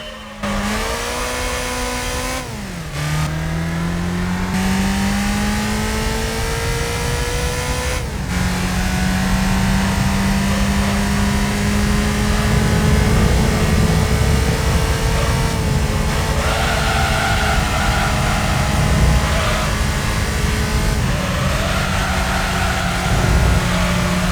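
A Mazda MX-5 racing engine from Gran Turismo 3 revs hard and climbs in pitch, dropping at each gear change roughly every few seconds, with a loud, continuous drone.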